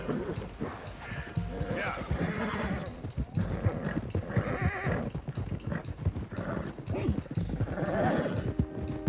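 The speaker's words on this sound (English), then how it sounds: "One of the stallions is loose." Loose stallion galloping in Red Dead Redemption 2, rapid hoofbeats clip-clopping close by with whinnies and snorts, under bursts of speech.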